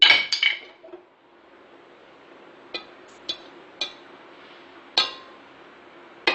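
A spoon clinks against a bowl while chili powder is mixed for a mango pickle. There are a few sharp, close metallic knocks with short pauses between them, heard alone in a quiet room.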